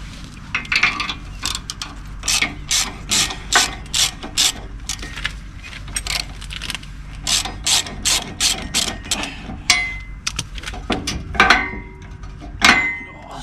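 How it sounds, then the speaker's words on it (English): A winch being lowered, its ratchet mechanism giving out a loud, rapid series of metallic clicks in uneven bursts, close up and alone. "So just going to drop the winch down now."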